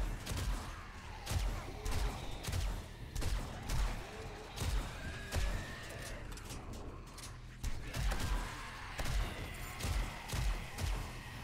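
Rapid gunfire from armor-piercing .40 desert ammo during a horde night in the video game 7 Days to Die, heavy repeated shots in bursts over a dense, noisy mix.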